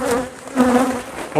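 Honey bees buzz around hive frames in a close, continuous droning hum that swells briefly.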